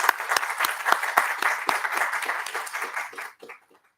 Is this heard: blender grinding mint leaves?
no